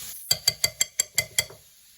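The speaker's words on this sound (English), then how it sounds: "We shake a little cumin there. Stir that in." A spoon or utensil stirs cumin into a vegetable kebab mixture in a bowl, giving seven sharp, evenly spaced clinks and scrapes in a quick rhythm, close and alone.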